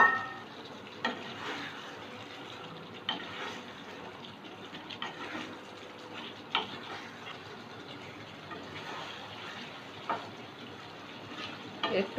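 Sliced pointed gourds (potol) fry in a pan for doi potol, giving a soft, steady sizzle with occasional light stirring knocks, fairly quiet and without talk.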